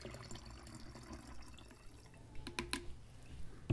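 Photographic developer solution poured through a funnel into a container, a soft continuous liquid trickle with a few brief drips and splashes near the end, close and quiet, no talking.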